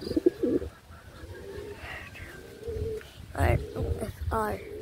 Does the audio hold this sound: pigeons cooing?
yes